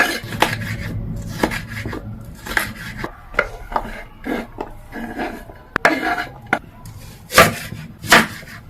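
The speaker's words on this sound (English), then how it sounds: "For the onions, I'm going to go ahead and chop them across." Onions chopped across on a cutting board, a series of sharp, irregular knife knocks against the board, some single and some in quick pairs, close and clear with no talking.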